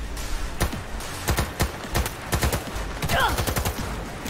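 Rapid gunfire in the video game Cyberpunk 2077, sharp shots in quick bursts with short gaps, loud and close, a couple of brief tonal whooshes in the middle.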